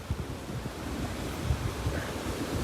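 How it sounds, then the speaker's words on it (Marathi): Sea waves breaking at the shore in Ratnagiri during the monsoon, a steady close wash of surf mixed with gusting wind buffeting the microphone, with low thuds of water and no voices. "फायनली आम्ही समुद्राच्या काठावर पोहोचलेलो आहे"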